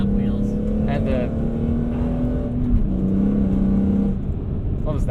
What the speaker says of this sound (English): What was that? Is that like a clutch slip,